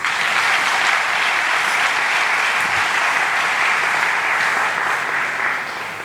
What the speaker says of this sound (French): je vous demande maintenant de faire une salle d'acclamation parce qu'ils sont venus de loin